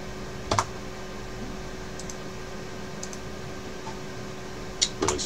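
A handful of isolated computer keyboard key presses, faint, sparse clicks spread across a steady low electrical hum, with a small cluster near the end and no talking.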